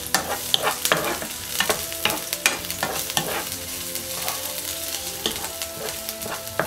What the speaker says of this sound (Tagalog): Stir fry po natin ang seafoods.